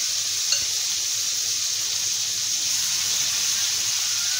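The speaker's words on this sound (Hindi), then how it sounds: "तेल हमारा अच्छा खासा गर्म हो चुका है, और अब हम एक एक करके ये मैरिनेटेड पीसेस इसमें डाल के फ्राई कर लेते हैं।" Marinated chicken pieces for butter chicken fry in hot oil over a lowered flame, making a loud, continuous, close-up sizzle and hiss with one small pop near the start.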